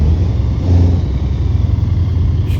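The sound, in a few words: Scania R580 V8 truck engine in Euro Truck Simulator 2 video game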